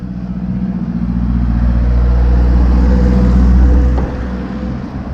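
A car passing on a mountain road near Briançon, its engine noise rising loud and close, holding steady, then falling away quickly, with no one speaking.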